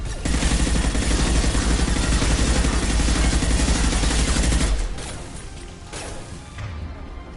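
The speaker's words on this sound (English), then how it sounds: "Firing an impact shot." Dense, rapid automatic gunfire in the video game Mass Effect 2 rattles loudly for several seconds, then falls back to scattered, quieter impacts and whooshes.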